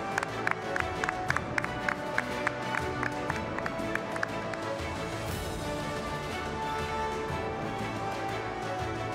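Applause for a musician at an award ceremony, group clapping heard faintly and at a distance beneath sustained stage music with rhythmic accents, continuing throughout.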